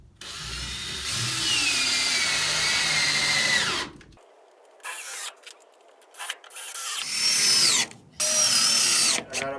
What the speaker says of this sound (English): now we're ready to start attaching with our 3-inch screws and our drill.